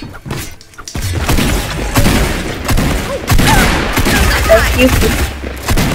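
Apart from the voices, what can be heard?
gunfire in the video game Fortnite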